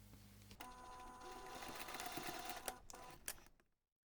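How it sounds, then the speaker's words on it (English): A sewing machine bastes the ends of a fabric jewellery pouch, its needle running in a fast, steady mechanical whir for about three seconds before stopping abruptly, close and fairly quiet. "you're going to take this to the machine and we're going to baste the ends"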